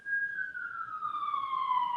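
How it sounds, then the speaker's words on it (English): A police siren wails on a New York street, one steady falling tone with harmonics, fairly loud and continuous for the whole moment, with faint city rumble beneath and no one speaking. "that's a police siren in New York"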